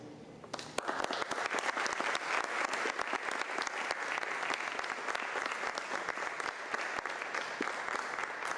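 Sustained applause from a lecture audience at a psychoanalysis talk, dense steady clapping starting after a brief moment and filling the room loudly to the end.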